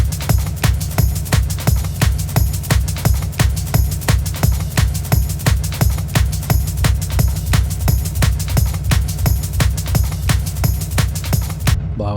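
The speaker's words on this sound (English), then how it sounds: "So we play all the drums together, we get this sound." A drum and bass track plays its full drum arrangement together, a fast, dense and steady breakbeat with punchy kicks, snares and constant hi-hats, loud and alone with no voices.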